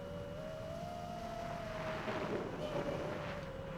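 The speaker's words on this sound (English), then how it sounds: "So yeah, it's very windy," Strong wind roars across the microphone while an FPV freestyle drone, a Geprc Mark5, flies outdoors; a steady whine rises and falls underneath the gusty rumble.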